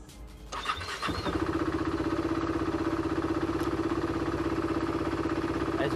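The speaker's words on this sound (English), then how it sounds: "As you can see, it is now on idle between 1000 and 2000 RPM" A KTM motorcycle engine cranks briefly and catches, then settles into a steady, close, even idle with a constant low throb that continues to the end.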